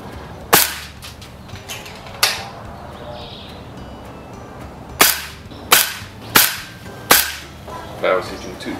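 Air rifle set up for speed firing JSB 15.89 grain pellets, about seven sharp, loud cracking shots spaced irregularly, each with a short ringing decay.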